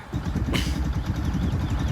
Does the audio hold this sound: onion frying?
no